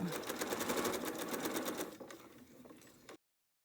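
Fast sewing machine stitching on a maple leaf quilt block, a rapid steady needle rhythm that runs loud and close, then slows and thins out before stopping.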